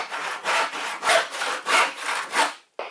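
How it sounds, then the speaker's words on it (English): A hand crosscut saw rips through wood in about seven steady back-and-forth strokes, loud, close and rasping, then a brief stop and a final short scrape, with no voices. "Take my trusty crosscut saw"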